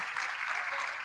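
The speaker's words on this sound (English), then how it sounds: "Let's give a big applause to him." Brief burst of audience applause in a conference hall during a plenary session at a social business gathering, steady and moderately distant, lasting only about a second.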